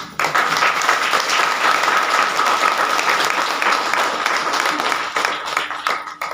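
A meeting audience gives vigorous applause at a DXN gathering in Mandar, a thick, steady wash of many clapping hands that holds for about six seconds before thinning at the end.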